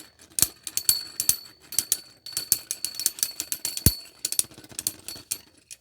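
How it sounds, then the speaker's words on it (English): A loose face bolt on the combat robot Dragon Slayer rattles during a tournament fight, making a close, rapid, irregular metallic clatter of sharp clicks and bursts. "the face bolt on Dragon Slayer is very loose"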